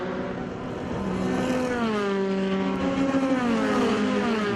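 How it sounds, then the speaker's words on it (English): Sports 2000 race cars with Ford Duratec engines at Silverstone, a loud, continuous engine howl that rises and shifts in pitch as cars pass close by, several engines blending together with no voices over them. "Duratec engines, marvellous sounding machines."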